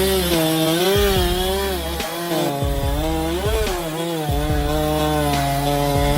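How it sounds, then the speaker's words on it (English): A professional logger runs a chainsaw through a giant tree trunk, the engine droning loud and steady with rising and falling pitch as it bogs and revs through the cut, close by and continuous throughout. "We are watching a professional logger make a crucial cut on a giant tree trunk."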